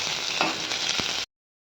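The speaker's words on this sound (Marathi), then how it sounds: "परत आपण ह्या कढईमध्ये तेल घेतलेलं आहे आणि त्यात थोडे जिरे टाकलेले आहे, कढीपत्ता ॲड केलेला आहे" Cumin seeds and curry leaves sizzle and fry in hot oil in a wok, a steady, dense crackle that runs close and loud for just over a second, with a few brief stirring scrapes and no talk.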